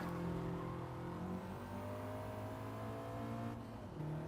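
A race car engine in Gran Turismo drones steadily at moderate volume, holding a sustained tone with slight pitch shifts as the car drives, then briefly changing near the end, with no talking.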